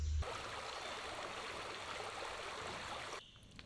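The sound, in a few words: flowing creek water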